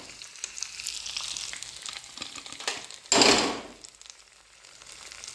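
A fried garnish hits hot payasam (pradhaman) with a sudden loud sizzle burst that fades over about a second, following quieter kitchen clatter and soft frying noise.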